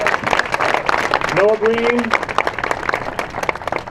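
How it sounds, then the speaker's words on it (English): An audience at a community walk event claps in steady applause while a voice carries over the clapping. "You can applaud."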